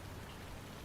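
Faint, steady rain hisses evenly throughout a brief moment, a continuous wash of patter with no distinct drops standing out and no voices.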